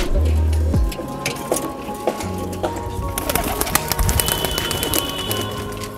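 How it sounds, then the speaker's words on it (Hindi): Domestic pigeons let out of their boxes burst into flight with a thump and a flurry of close wingbeats, followed by scattered flapping and soft cooing against outdoor background noise. "तो चलिए दोस्तों खोलते अभी कबूतर हम।"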